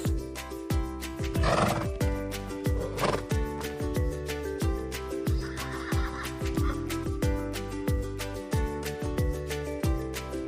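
A horse gives a loud, shrill whinny, with hooves clip-clopping rhythmically under a looping musical beat.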